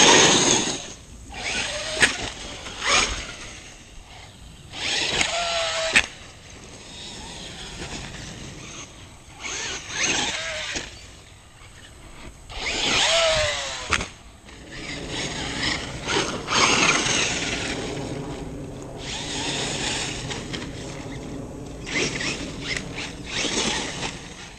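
An Axial Yeti RC car with a Traxxas Rustler VXL motor driving outdoors, giving repeated whining bursts of electric motor and drivetrain that rise and fall with throttle, plus scrabbling tyres and gritty mechanical chatter, with no talk.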